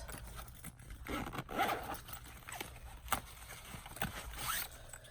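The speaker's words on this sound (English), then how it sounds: "it zips really, really easily" A JuJuBe Rose Quartz Mini Helix bag being zipped closed, with several close, scratchy zipper pulls and scraping strokes of varying length, fairly quiet and heard alone.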